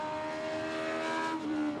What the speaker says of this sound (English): Love hearing that thing accelerate down the hill